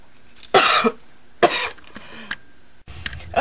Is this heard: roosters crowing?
no